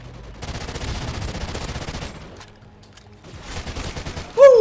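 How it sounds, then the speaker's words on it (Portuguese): Rapid assault rifle bursts rattle in an online shooter, two dense runs of close automatic fire separated by a short quieter gap, ending with a sharp tonal game effect. "Vou agora em assault rifle mode"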